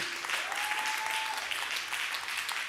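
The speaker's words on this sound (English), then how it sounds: "Give yourselves a great round of applause." Steady applause from the seated audience at an awards evening, a full even patter of many hands filling the room for the whole stretch, with a faint brief tone passing underneath.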